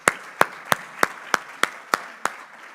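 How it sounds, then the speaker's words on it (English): Slow, evenly spaced rhythmic clapping at an air transport industry conference, about eight distinct claps in a row over a faint background of scattered applause. "Let's hear a round of applause for that."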